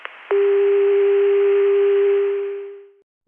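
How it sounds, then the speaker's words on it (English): A 1981 CCSA telephone network dial tone, heard through the ConTelNet 288 PBX, rings steadily after a brief click, one clear sustained tone that holds for about two and a half seconds and then fades away. "This is the CCSA dial tone."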